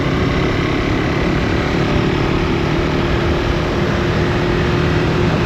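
KTM 390 Enduro R motorcycle engine running loud and close, a continuous dense engine roar with wind noise throughout; no distinct gear-shift break stands out, and no one speaks.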